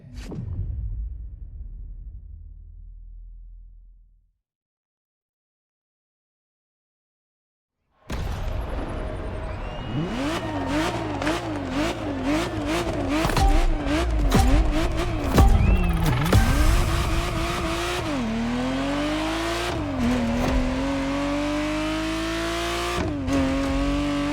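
A Ferrari Testarossa in The Crew Motorfest, its engine heard near and loud: a brief fading drone, a few seconds of silence, then sustained revving and acceleration with wavering pitch and clear gear shifts.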